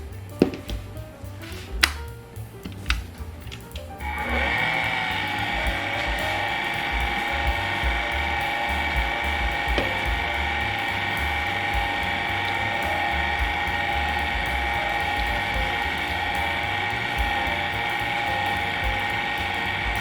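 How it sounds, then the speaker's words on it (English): A kitchen stand mixer runs at low speed, blending flour and 7-Up into cream cheese pound cake batter. A few clicks and knocks come first, then a steady loud mechanical whir with a rattling, gear-like hum that continues alone to the end. "you want to mix your flour and your 7-Up in at a low speed"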